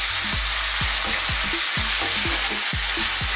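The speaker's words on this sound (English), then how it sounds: "So at this stage we want to just throw this around in the pan." Lamb frying in a pan with dried rosemary and bay leaf, a loud steady sizzle with rhythmic scraping strokes as the meat is stirred and tossed, close and without talk.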